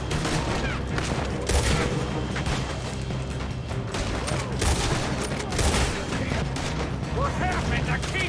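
Gunfire in a shootout in the video game Red Dead Redemption 2, dense continuous volleys of shots and booms throughout, with voices shouting amid the battle over background music.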